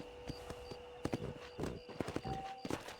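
Horse hooves clip-clopping in Red Dead Redemption: a faint, uneven run of hoof knocks at a walking pace under quiet ambient tones, with no talking.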